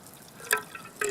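Clean water trickling from a squeezed bottle and dripping, with faint quiet flow and two or three distinct close drips against a calm background.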